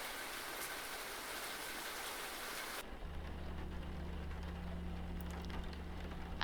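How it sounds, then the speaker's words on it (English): Steady rain pattering in the Doki Doki Salvation visual novel game, a dense hiss of falling drops that cuts abruptly partway through to a quieter indoor hum with faint low tones. "prepare myself to run through the rain."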